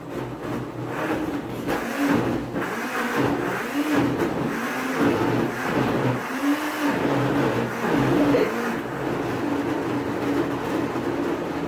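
Paper pulp for papier-mâché churning in a blender, a loud continuous motor whir with a pulsing, wavering pitch as the thick mixture labours, heard up close without talk.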